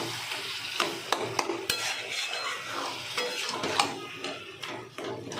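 Taro leaf curry with grated coconut being mixed in a pan: clinking, scraping spoon strokes against metal over a soft, steady frying sizzle, close by and without talk.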